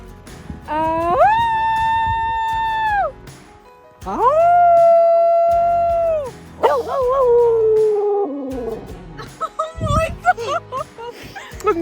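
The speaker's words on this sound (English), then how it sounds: "never actually heard her howl like that before." A dog howls in long, rising and wavering tones, breaking off between drawn-out cries, then finishing with shorter yips and whines close by.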